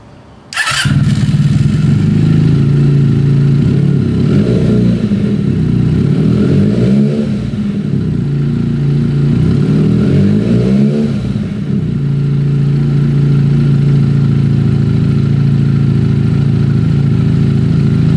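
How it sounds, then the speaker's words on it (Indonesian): A Benelli TNT 250 motorcycle engine cranks and fires up close by, then is revved in several rising and falling bursts before settling into a loud, steady idle. "Kita langsung dengerin suara mesinnya ya."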